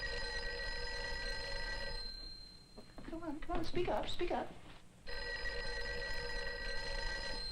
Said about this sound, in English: Phone's ringing. It should be answered.